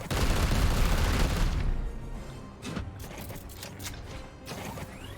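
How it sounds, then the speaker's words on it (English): Rapid gunfire from the Warhammer 40000 Chaos Gate video game, a dense loud burst of shots filling the first two seconds, then scattered sharper impacts and mechanical clatter trailing off. "we might as well just shoot away"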